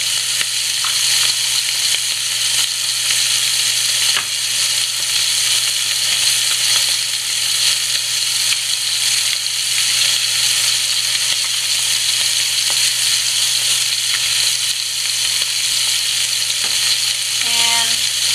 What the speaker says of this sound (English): Let them be so they can caramelize as they touch the bottom of the skillet.